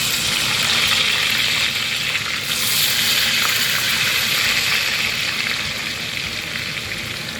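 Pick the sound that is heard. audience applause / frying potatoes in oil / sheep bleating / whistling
frying potatoes in oil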